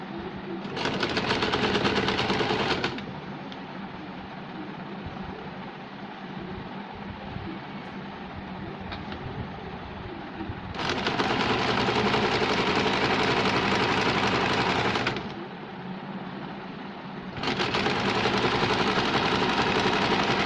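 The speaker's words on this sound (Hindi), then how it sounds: "इसे सिलाई लगाएंगे।" A sewing machine stitches a double-layer top in three loud bursts, with quieter steady running between them, close and without any voices.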